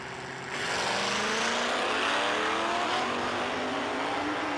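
A Ford Fairmont and a Mustang launch at a drag strip, their engines bursting in after a brief lull and roaring loudly as they accelerate away, the rising drone sustained to the end.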